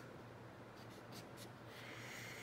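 Hand-writing fractions on paper, with soft, quiet pen strokes scratching in short bursts at close range, with no talking.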